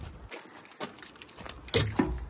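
Keys to a 30-ton digger jangle close by in a few bright metallic bursts on a wet building site, with a louder rattle near the end and a faint vehicle rumble underneath.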